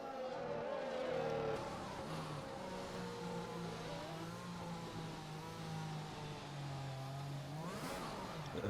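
A race car in a racing sim at Abu Dhabi spins through donuts, its engine droning and wavering in pitch with skidding tyre noise, a sharp rev near the end, fairly faint, no talking.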